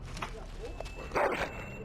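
A dog in the Dragon Age: Origins fantasy game gives short yips and a whimpering whine, with a louder bark-like burst near the end, mixed under speech and game ambience.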